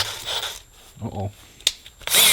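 A drill bores out a seized exhaust stud from a cast-iron cylinder head in two short, harsh bursts, one at the start and one at the end, separated by quieter scraping and clicking.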